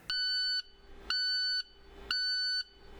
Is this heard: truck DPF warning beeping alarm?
yes